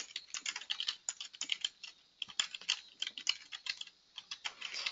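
Someone types on a computer keyboard at a steady pace, with quick, crisp key clicks in uneven runs and brief pauses, close and fairly quiet.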